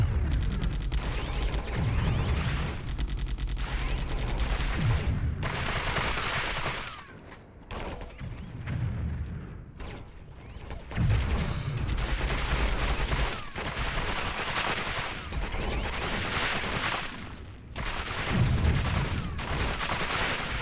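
Sustained bursts of automatic gunfire in the video game Warhammer 40K: Fire Warrior, fired at a pipeline, coming in loud rapid volleys with brief pauses between them.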